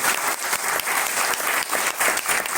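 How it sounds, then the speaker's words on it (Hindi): Loud, dense applause from a large business-meeting audience, steady and sustained throughout with slight surges, no voices standing out. "इसलिए तालियां आप जोरदार बजाइए"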